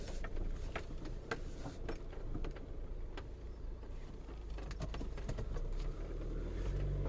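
A car driving along a road through Levka, a steady low engine and road rumble close inside the cabin, with scattered small clicks and rattles on top and no speech.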